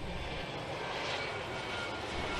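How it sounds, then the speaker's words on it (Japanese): Wind noise from an experimental aircraft passing over an array of microphones: a steady, broad rushing roar, loud and close, holding evenly throughout. "これは飛翔のどの部分からどれくらいの風切り音が出ているのか、たくさんのマイクを使って調べているところですね。"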